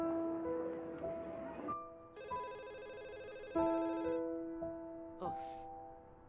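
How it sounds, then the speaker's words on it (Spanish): A telephone rings on with nobody answering, a clear electronic ringtone of repeated tonal trills and chirps in a quiet room, close and fairly faint. "¿Por qué nadie atiende el teléfono?"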